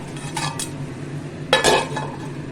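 A metal lid is set onto a cooking pot in a home kitchen where mustard greens are being boiled, two brief clanks, the second louder, over a low background hum.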